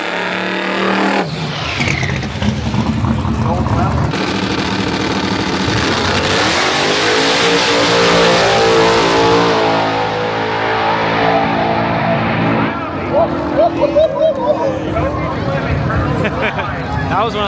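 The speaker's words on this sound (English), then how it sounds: "That was one of the loudest cars I've ever heard in my life." A very loud car revs hard at a street car takeover event with roll racing and burnouts, its engine note swelling up to a roaring peak and then fading, with a crowd murmuring around it.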